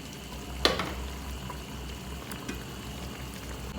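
Goat trotters (paya) simmering in water in a pot, a low steady bubbling hiss with a sharp clink near the start and a softer knock later, no talk.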